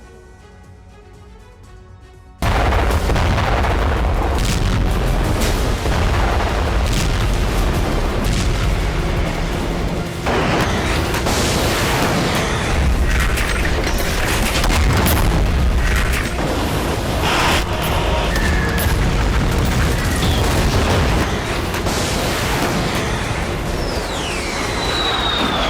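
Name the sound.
artillery explosions in the Russia-Ukraine war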